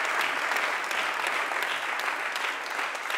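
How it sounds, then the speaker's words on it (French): A studio audience on a French-language TV show claps for a footballer guest, a steady, even burst of applause lasting a few seconds. "Applaudissez pour le footballeur."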